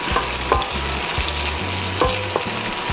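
Onions fry in oil in a pan with a steady, close sizzle, punctuated by a few soft knocks and scrapes of stirring.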